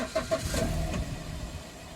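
A BMW E93 320i engine turns over and catches after a push-button start, settling into a steady low rumble, recorded close up.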